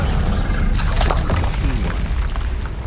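A Bombarda explosion spell in Hogwarts Legacy goes off as one loud, continuous booming blast with crackling debris, filling the whole moment with no talk over it.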